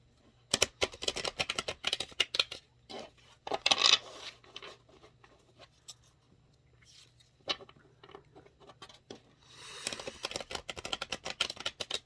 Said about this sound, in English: So I just have to shuffle.